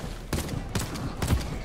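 Three sharp bursts of gunfire in the video game Xtract, evenly spaced and fairly loud, with a steady hum of game background beneath them.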